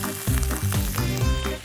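Mussels sauté in olive oil in a pan, a close frying sizzle broken by rhythmic low thuds and scrapes as they are moved about, loud and continuous for under two seconds, no talk.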